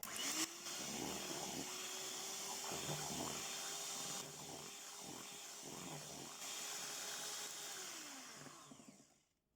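An electric mixer whirs steadily through lemon pound cake batter with milk and lemon juice, a continuous motor hum with brief shifts in load before it winds down at the end.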